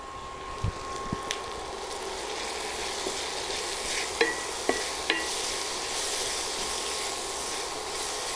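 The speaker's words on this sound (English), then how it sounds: "So our spices is well sauteed in that coconut oil along with that ginger" Ground spices with ginger sautéing in hot coconut oil for pepper chicken, producing a steady close sizzle and hiss throughout, broken by a few faint clicks of a stirring utensil.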